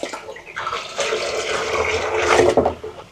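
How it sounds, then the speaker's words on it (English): A garden hose gushes water into a chicken coop waterer, a close splashing fill that swells and fades in uneven surges. "So we got the hose going on right here"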